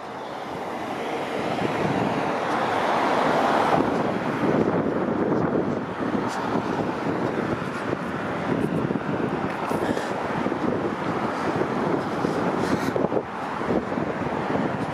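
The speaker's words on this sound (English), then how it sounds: "if the wind is audible, I do apologize" Steady, heavy wind buffeting the microphone during an outdoor walk along Yonge Street in Newtonbrook, North York, Toronto, with a low rumble that persists through the whole stretch.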